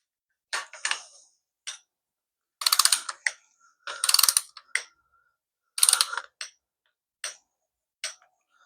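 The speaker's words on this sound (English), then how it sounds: "All right, one more left to torque." Ratchet wrench torquing exhaust manifold bolts during an engine install, heard as several close, crisp bursts of rapid clicking separated by short pauses.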